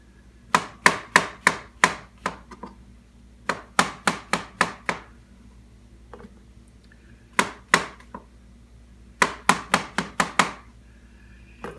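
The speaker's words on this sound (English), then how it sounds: "whenever I slice up mushrooms, I usually cut it so we have whole pieces" A knife chops through mushrooms on a cutting board in quick bursts of four to six crisp, close taps, with short pauses between runs.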